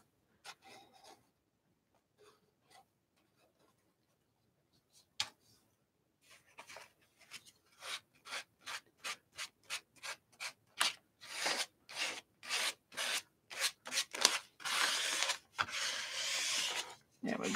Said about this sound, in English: It dries pretty fast when you scrape it like this.